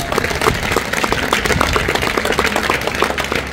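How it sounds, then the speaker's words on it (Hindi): An audience claps loudly together at a coaching centre event, a dense, continuous burst of applause with no voices over it. "इस माइक वाले भाई के लिए जोरदार ताली बजाओ"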